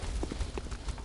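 Footsteps of a character in the video game Bloodborne: a rapid series of soft, hollow thuds set against a dense, steady background drone, with no talking.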